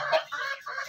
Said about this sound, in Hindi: ये मिश्री मुर्गा है और मिश्री मुर्गी है।